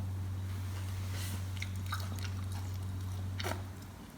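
Crispy uttapam, a South Indian pancake, bitten and chewed close up, giving a few soft crunches and squishy chewing sounds over a steady low hum, with no talking.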